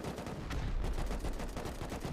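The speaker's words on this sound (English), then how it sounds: "I hear a whole lot of explosions coming in from SeemsGood's attack side here." A 10v10 team raid in the survival game Rust brings dense, continuous gunfire and blasts that blend into a heavy, rumbling wall of combat noise.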